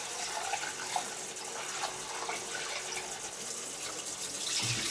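Rice is washed by hand in water, giving a steady rushing splash and swirl of water running and sloshing nearby, continuous and fairly loud with no talk.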